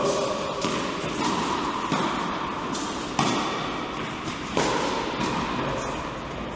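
Racket strikes on a ball in a doubles volley exchange at the net, a series of sharp close thumps about a second apart over a faint background, without talking.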